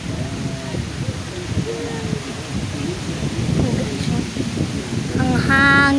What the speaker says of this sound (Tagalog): Ang hangin, guys. Ang hangin na po.